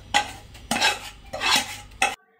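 Turmeric and salt are mixed into sev murmura masala in a pan off the heat, making four brisk, close scraping stirs in a steady rhythm before stopping abruptly.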